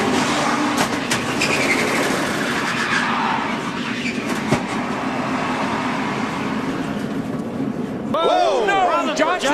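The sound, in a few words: NASCAR race car engine heard from onboard camera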